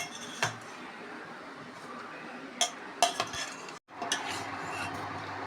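A spoon scraping and clinking against a pot as thick drumstick kootu is stirred, with a few sharper knocks over a low simmer.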